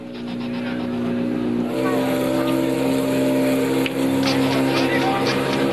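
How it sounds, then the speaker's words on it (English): A vintage Mercedes-Benz 300 SLR race car runs on a 2.8-kilometer circuit, its engine giving a steady, loud harmonic drone that holds for the whole stretch and lifts slightly partway through. "The 300 SLR from the manufacturer's own collection is put through its paces."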